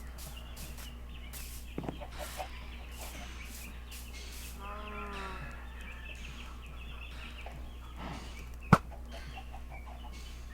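Chickens in a Minecraft coop give a few scattered short clucks and one sharp peck-like click over a steady low background hum, fairly faint and at moderate distance, with no talking.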